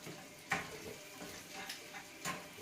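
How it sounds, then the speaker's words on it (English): Shrimp sizzle quietly in butter in a small frying pan over lowered heat, a soft steady crackle broken by a few sharp clicks and pops. "when you lower your heat on your shrimp, and just let them sizzle in more of that butter"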